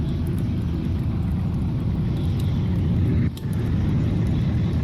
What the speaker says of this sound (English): Here we go, helicopter.